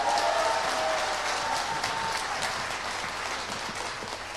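A crowd at a church pastor's press conference applauds to welcome a speaker, a loud sustained round of clapping that slowly tapers off.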